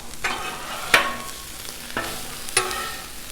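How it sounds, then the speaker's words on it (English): Vegetables and hash browns fry on a Blackstone griddle in leftover bacon grease, a soft steady sizzle punctuated by a few sharp metal spatula scrapes and taps, close and alone without talking. "Just fry that up too."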